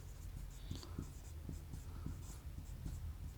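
Chalk tapping and scratching on a classroom board during a physics lesson, a steady run of short strokes close by and fairly quiet, with no talk.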